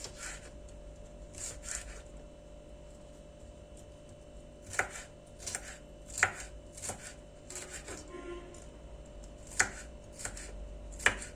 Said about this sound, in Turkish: küçük küçük doğrayacağım